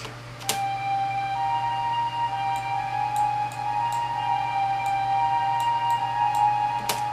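A sustained synthesized flute-like tone with long reverb tails, holding steady notes over a faint electronic hum, with a couple of soft clicks.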